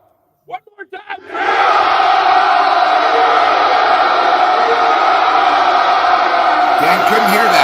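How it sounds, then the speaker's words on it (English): After a few short vocal blips, a loud crowd cheering sound effect erupts and sustains as a steady, dense roar of voices, with a brief clattering disturbance near the end. "that deserves a big, proud, cheering noise"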